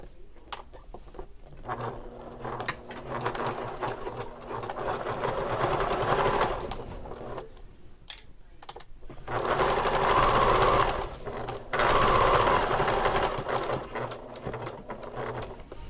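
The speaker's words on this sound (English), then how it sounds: "And then we'll be stitching all around the left, bottom, and right sides." Sewing machine stitching the left, bottom and right sides of a convertible bag, close rattling runs in several bursts separated by brief pauses.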